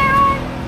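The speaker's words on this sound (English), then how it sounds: "Hey, the little cat." A small street cat in Phuket gives one brief, close meow that trails off against outdoor background noise.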